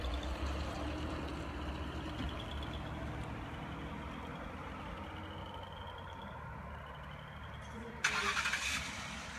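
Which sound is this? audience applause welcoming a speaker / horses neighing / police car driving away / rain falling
police car driving away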